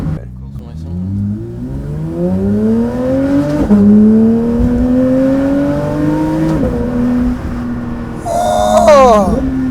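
Porsche GT3 with a straight-pipe exhaust revs up through rising pitch sweeps, with audible gear changes dropping the tone, a loud close engine under talking voices.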